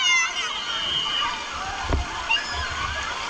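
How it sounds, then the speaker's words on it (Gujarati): Fountains at a family water park and resort in Sasangir, Junagadh, Gujarat splash and slosh continuously nearby, with a heavier splash about midway. Voices talk over the water. "બધે પાણીના ફુવારા છૂટે છે ધબા ધબ"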